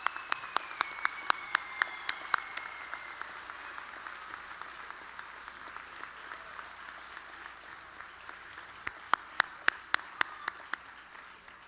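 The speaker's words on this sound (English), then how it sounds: "Let's give them all a round of applause." Large commencement audience at a college graduation ceremony in a big hall, applauding in a sustained wash of distant clapping with sharp individual claps popping out near the start and again toward the end.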